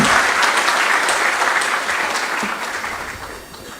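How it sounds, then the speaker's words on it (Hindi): Hearty applause from an assembled crowd at an appointment-letter ceremony for medical officers in Uttarakhand, dense and close, gradually tapering in loudness. "सभी चिकित्सा अधिकारियों का जोरदार तालियां बजाकर सबका उत्साहवर्धन करें"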